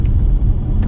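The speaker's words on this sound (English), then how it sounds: "It's a slight engine note change, and you see that rev counter needle moves slightly." Jaguar XE S with a 3-litre V6 engine, a low, steady rumble heard from inside the cabin with a slight change in engine note, brief and unbroken.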